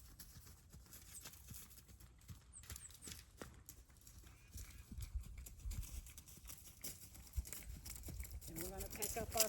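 Hooves of a horse cantering in an arena during balance and flying-change schooling, a soft steady clip-clop rhythm close by, with a rider's voice talking over it.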